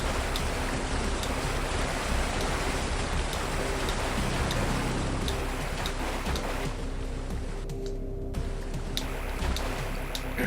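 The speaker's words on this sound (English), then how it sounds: "I hear running water." Loud, continuous rush of falling water in a video game, a broad steady roar like a nearby waterfall with no talking.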